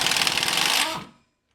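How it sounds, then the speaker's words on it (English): Pneumatic impact gun hammering on a corroded, heat-scorched front spindle bolt of a Mercedes W126, a loud, close, continuous rattling burst for about a second before cutting off abruptly into silence. "get the impact direct on the bolt"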